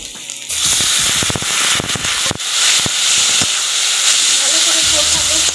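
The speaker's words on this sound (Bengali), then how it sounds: "এরপরে একে কষানোর জন্য আমি এখানে একটু জল দিয়ে দিব।" Water is poured into a hot pan of Chapila fish curry and bursts into loud, close sizzling with sharp crackles and spits that settle into a steady hiss.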